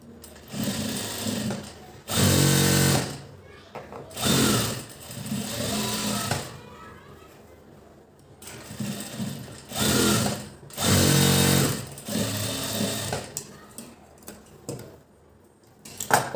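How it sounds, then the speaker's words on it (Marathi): A sewing machine stitches fitted seams in fabric, running in about six loud, steady bursts of rapid mechanical whirring separated by short quiet pauses, heard close up. "आता आपण डायरेक्ट फिटिंगची शिलाई मारून घेणार आहोत"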